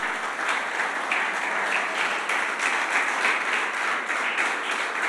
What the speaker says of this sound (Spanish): ¿Por qué no le das tu mejor aplauso al Señor?